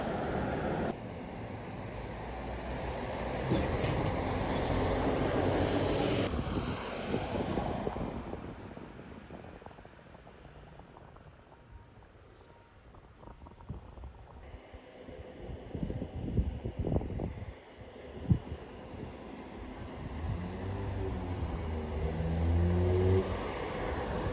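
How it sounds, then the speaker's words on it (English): A bus on Tasmania's west coast, bound for Waratah, arrives and drives off with a steady engine rumble. The sound swells and fades, with heavy wind buffeting the microphone, and nobody speaks. "There's our bus, going to take us to Waratah."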